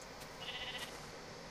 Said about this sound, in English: We got sheep.